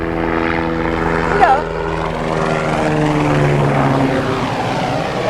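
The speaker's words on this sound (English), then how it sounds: "the helicopter's going by." A helicopter drones overhead, rising and fading as it passes, with a brief voice speaking partway through.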